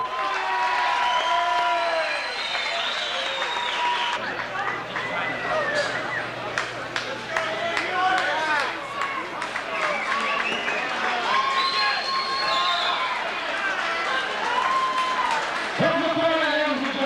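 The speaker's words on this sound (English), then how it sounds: "Please join me in a big round of applause for our 2 fighters" A crowd at a pro boxing event claps and cheers for two fighters, the applause continuing throughout while an announcer speaks over it.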